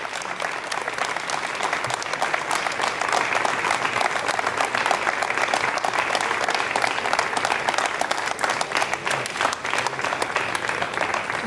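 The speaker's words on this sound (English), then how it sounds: "Applause and smiling faces here, always a good sign." Long, steady applause from a crowd at the Göktürk-1 satellite launch ceremony, a dense, continuous rattle of clapping hands that holds at an even level for over ten seconds.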